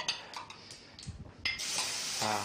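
Chicken livers land in hot olive oil in a very hot pan after a few clinks and stirs, bursting into a loud, steady sizzle that fills the last second, close by.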